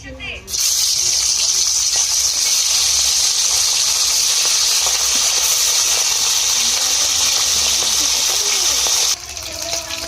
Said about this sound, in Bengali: মাছগুলো একে একে করে ভেজে নেব।